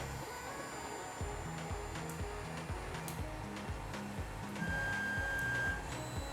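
An Ender 3 3D printer hums and whirs with repeating stepper-motor tones as it stops printing and moves its head back to its resting position, with fans running throughout.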